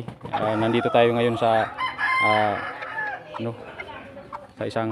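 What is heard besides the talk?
bantam rooster crowing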